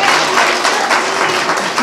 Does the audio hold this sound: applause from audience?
yes